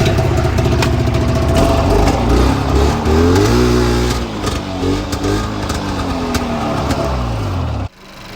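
A Grand Touring 580 snowmobile engine in need of new spark plugs runs loud and close, revving up and down in rising and falling sweeps for several seconds before cutting off abruptly near the end.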